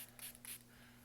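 Two quick close hisses of a spray bottle misting product onto the frizzy, dried ends of a wig, short bursts a fraction of a second apart over a faint steady background hum.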